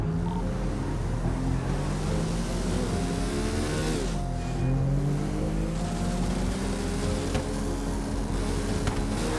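Koenigsegg sports car in a video game race, its engine revving hard and rising in pitch through gear changes, loud and steady, with a brief dip and surge midway as it keeps accelerating.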